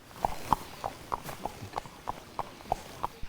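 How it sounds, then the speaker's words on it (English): Horses' hooves clip-clop at a steady walking pace at Graves Mountain Lodge in Virginia, roughly three hollow knocks per second, moderately close with faint background noise. "As we rode the horses and otherwise toured the massive spread"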